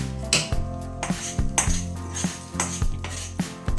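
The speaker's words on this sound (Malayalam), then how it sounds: "നമുക്കിതൊന്ന് ഒന്ന് മിക്സാക്കി കുഴച്ചെടുക്കാം" A spoon mixes and kneads ven pongal with tempering poured over it, making quick clinks and scrapes against the vessel in a steady rhythm, close and without speech.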